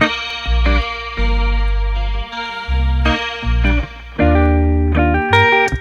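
A heavily effected electric guitar, run through amp simulation in Ableton Live 12, plays sustained bass notes and chords, its tone sweeping and shifting as a wandering resonant filter moves through each note.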